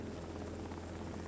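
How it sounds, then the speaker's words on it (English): A helicopter's propeller roars steadily as the craft prepares for takeoff in the video game 428: Shibuya Scramble. The dense, even drone is fairly quiet and continuous, with no clear voices above it. "The sound of a propeller blades cut the air. Voices were barely audible beneath the roar as the craft prepared for takeoff."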